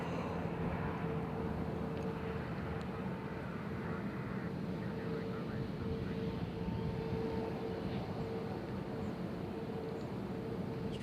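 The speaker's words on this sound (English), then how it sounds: "I hear a helicopter." A helicopter flies near Nashville International Airport, a steady distant rotor and engine drone with a faint tonal whine running continuously throughout, no voices.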